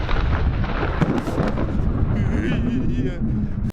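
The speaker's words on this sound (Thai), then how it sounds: "โอ้โหฟ้าแลบ" A thunder-and-lightning sound effect plays as a loud, close, continuous rumble with a few sharper cracks, rolling on for nearly four seconds.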